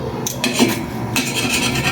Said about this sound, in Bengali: এটাকে আমি একটু ঘুরিয়ে নাড়াই দিব